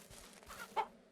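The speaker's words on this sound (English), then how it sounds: "I believe I have 3 roosters and 3 hens per coop" A chicken from a coop of roosters and hens in the farming game Ranch Simulator gives a single short, faint cluck over soft background noise.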